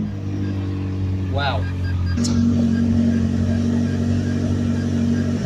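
A McLaren sports car engine revs up to about 4,000 rpm at a dealership, a steady loud mid-pitched drone with a rising rev swell near the start, heard up close while a person briefly exclaims.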